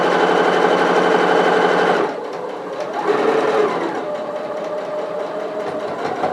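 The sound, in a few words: sewing machine stitching apron pocket corner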